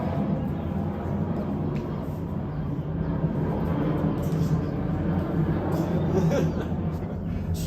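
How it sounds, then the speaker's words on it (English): An airplane flies overhead outdoors, a steady broad low rumble that stays loud and constant for several seconds with no clear rise or fade. "Plane goes by"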